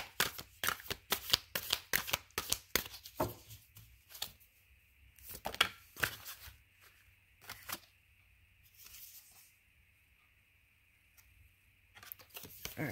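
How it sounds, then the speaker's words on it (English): A deck of cards is shuffled near the microphone, with rapid riffling bursts early on, then sparser flicks and taps amid a quiet room hum. "let me keep shuffling"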